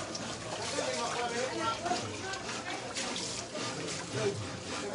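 Cold mountain-sourced water pours from a shower onto a tiled bathroom floor, a steady hiss and splash running throughout under someone talking.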